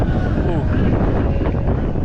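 Wind by the sea in Crimea blows steadily into the microphone, a constant rough buffeting rumble that fills the whole stretch without letting up.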